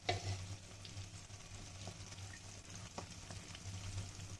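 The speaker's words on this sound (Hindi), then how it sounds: "मैं इसमें थोड़ा सा पानी शामिल करूँगी।" Green chilli curry sizzling and frying in a pan as water is added, a faint steady hiss with a low hum and a few soft stirring clicks, no voices.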